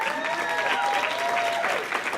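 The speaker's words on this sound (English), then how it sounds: "Oh, that's better than golf tournament clap." An audience claps steadily in a hall, a dense, loud wash of applause running the whole time with a faint tonal whistle drifting over it.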